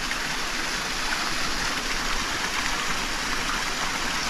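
A river flowing near a tunnel, heard as a steady, close rush of water with an even hiss and no voices.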